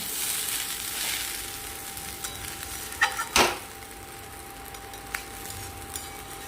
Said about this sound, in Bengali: চালটা দিয়ে একটু নাড়াচাড়া করব আর দিয়ে দিচ্ছি চেরা 3টে কাঁচা লঙ্কা